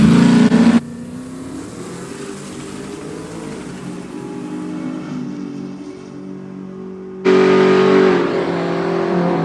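Two Ford Falcons, an older XD or XE and a newer FG on Pro Street radial rear tyres, roar at Sydney Dragway, a loud burst at the start, a sustained engine drone, then another loud surge near the end.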